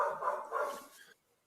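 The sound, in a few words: dog barking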